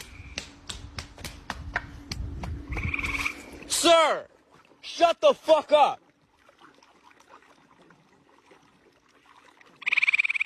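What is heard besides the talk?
frogs croaking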